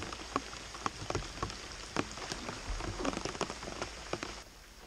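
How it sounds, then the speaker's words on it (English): Rain patters on a surface, with scattered louder drops striking close by over a steady soft hiss; it is moderately quiet and no voices are heard. "the rain returned and was kind enough to stay with me the rest of the day."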